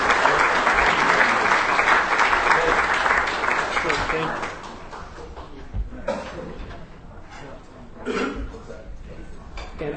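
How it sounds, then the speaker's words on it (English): Audience applause for a high school football player at a hall of fame enshrinement ceremony, loud dense clapping for several seconds that fades into scattered claps and room noise, with speech faintly mixed in. "Please give Connor Gooding a round of applause."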